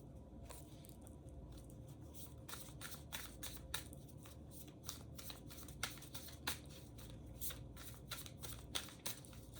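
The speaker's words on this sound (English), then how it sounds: "Shuffling for the collective" Cards being shuffled repeatedly, a run of quick riffling bursts and soft slaps close by, with no voices.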